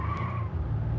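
Car tires spin and squeal in BeamNG Drive, a steady rough engine-and-tire roar with a faint high squeal running through the brief moment, fairly loud and without talk.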